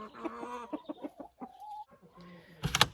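A hen clucks in short, uneven bursts close by, ending in a louder, sharper squawk.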